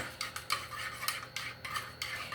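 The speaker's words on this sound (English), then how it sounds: "I'm going to go ahead and stir this around" A utensil scrapes and clinks around a container of melt and pour soap, with repeated close, light stirring strokes in a steady rhythm and no talking.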